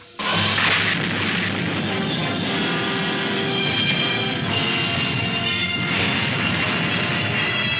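A missile strikes a craft in a loud explosion effect, a sudden heavy boom that swells into a long, rumbling, crackling roar and keeps thundering, close and alone.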